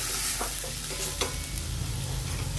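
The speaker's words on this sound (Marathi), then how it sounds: "आता याला पण आपण परतून घेऊ।" A masala of coriander powder, red chilli, turmeric and onion-garlic spice paste sautés for misal with a close, continuous sizzle. A spoon stirs and scrapes it in the pan, giving a few soft scraping taps.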